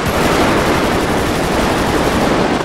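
Rapid gunfire in the video game GTA roleplay, a dense, loud, continuous burst of shots filling the whole moment with no talk over it.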